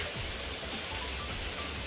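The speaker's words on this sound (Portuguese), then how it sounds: "Não sei se dá pra ouvir o barulho da água batendo no chão." Heavy rain pouring down and hitting the ground, a steady dense hiss with no break, loud and close.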